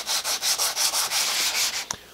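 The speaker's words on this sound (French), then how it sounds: "je peux prendre mon Cumico, le poser à plat et venir le poncer" A wooden kumiko piece is rubbed flat against glued-on abrasive in about ten steady back-and-forth strokes, a close, gritty swishing that ends with a light knock.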